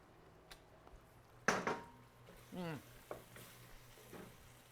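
Onions fry in a pan on the stove for mac and cheese, a soft sizzle under sharp stirring scrapes and clanks of a utensil against the pan, close and intermittent.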